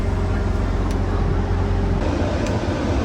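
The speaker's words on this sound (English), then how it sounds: "Yeah, idling, fast idling." A bus engine at fast idle during commercial driver training gives a steady, loud, low-pitched drone with a constant hum and no changes in speed throughout.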